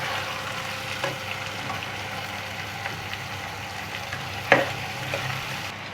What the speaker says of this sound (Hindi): आलू और अरवी हमारी फ्राई हो रही है